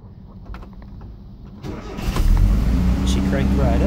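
A truck engine fitted with a Weber 32/36 carburetor cranks briefly, then catches and starts, settling into a loud, steady run close by with a voice heard faintly underneath.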